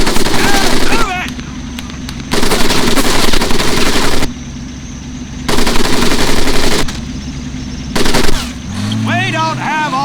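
Machine-gun fire rattles loudly in the World War II training scene of the video game Medal of Honor Pacific Assault, coming in long sustained bursts separated by pauses, with a voice shouting between them.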